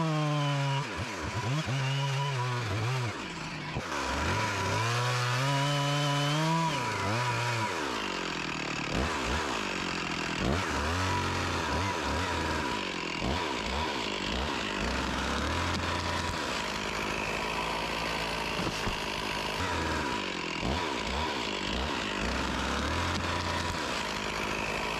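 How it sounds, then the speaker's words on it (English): Chainsaw making a face cut on a very large leaning tree, a loud close engine whine that revs up and holds steady under load through the cut, with no talk. "I'm going to go ahead and do a face cut on this."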